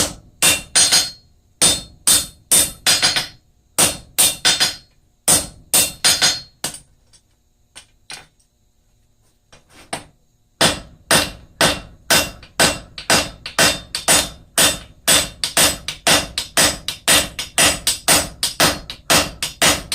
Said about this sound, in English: when you're just hammering on the top of this